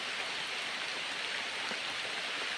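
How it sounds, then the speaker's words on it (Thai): Heavy rain pours down outdoors in a mountain forest, a steady dense hiss of falling water with no voices over it. "ตอนนี้ก็ฝนแม่ได้ตกลงมาอย่างหนัก"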